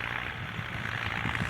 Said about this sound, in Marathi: चांगला ट्रॅक्टर आहे एकदम मोठा तास आहे.